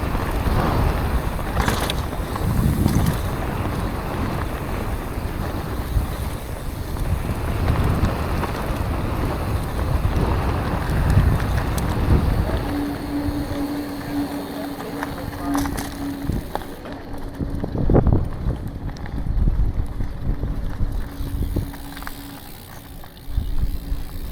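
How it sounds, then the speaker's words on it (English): Steady wind roars and buffets the microphone throughout at a mountain bike park jump line, with a few thumps and knocks and a faint tone partway through. "It's so windy."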